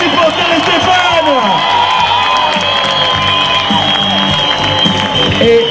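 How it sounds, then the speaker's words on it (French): Spectators at an international grasstrack motorcycle race in Marmande clap, cheer and whoop in a crowd, with motorcycle engines whining and a commentator talking loudly over the steady din. "Vos applaudissements, vos encouragements."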